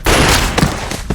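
Gunshots fired at a candidate in a comedic zombie-game parody scene, a loud close burst of rapid overlapping shots, harsh and dense, with no talking.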